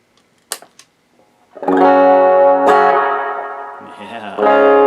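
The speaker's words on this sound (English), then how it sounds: "Let's turn the reverb on." Clean electric guitar played through a USA amp with reverb switched on, bass, mids and treble set high, ringing sustained chords that bloom after a few soft pick taps and hang loud with a reverberant tail.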